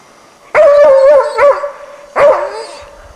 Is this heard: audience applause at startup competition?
no